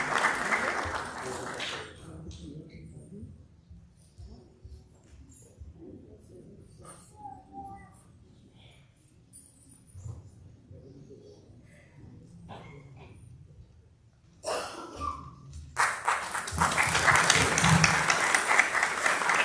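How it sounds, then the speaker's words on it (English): Guests at a Bharatanatyam arangetram applaud in a hall. A short burst of clapping opens, then a quieter stretch follows with faint voices and shuffling. A louder, sustained round of applause swells near the end. "let's please welcome her to the podium with a huge round of applause."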